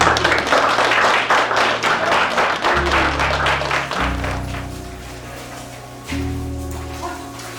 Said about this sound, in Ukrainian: давайте аплодисменти Денису Чигирьову і Світлані Остапчук за те, що організували сьогодні